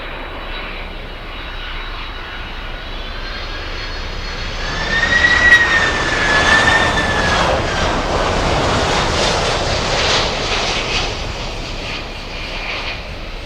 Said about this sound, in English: Air Canada cargo flying in from Colombia.